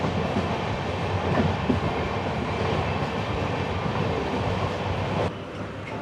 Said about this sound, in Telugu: పదకొండు గంటల 10 నిమిషాలకి అయితే మన ట్రైన్ పిడుగురాల నుంచి అయితే బయలుదేరిపోయింది